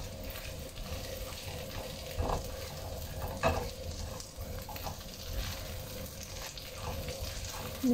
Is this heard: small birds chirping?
no